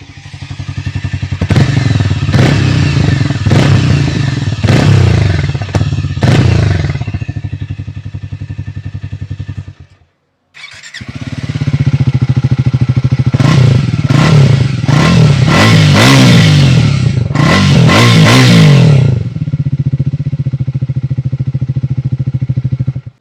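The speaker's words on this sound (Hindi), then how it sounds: "हार्ले डेविडसन X440 का एग्जॉस्ट बहुत ही ज़्यादा लाउड है, बहुत ही ज़्यादा बेजी है" Exhaust notes of a Triumph Speed 400 (350cc) and a Harley-Davidson X440 motorcycle, loud and close, with repeated throttle blips and revs in two bursts separated by a short silence, no talking.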